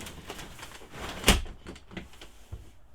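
A door on a Jayco Redhawk 22AF motorhome shuts with a single sharp thud near the middle, close and fairly loud, amid faint interior rustling and handling noise.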